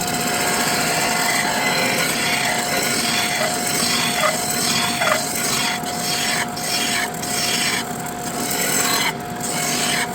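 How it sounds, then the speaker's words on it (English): A disc sander grinds against wood in a steady, loud, continuous raspy hum with a constant motor tone, and the abrasive scraping shifts slightly as the piece is pressed and moved. "If you have a large disc sander, this helps a lot."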